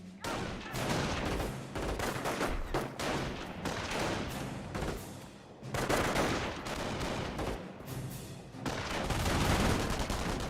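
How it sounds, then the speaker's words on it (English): An MG42 machine gun in the video game Company of Heroes fires long continuous bursts, joined by other gunfire and distant booms, making a dense, loud battle din that runs unbroken throughout. "MG42 firing away against over here."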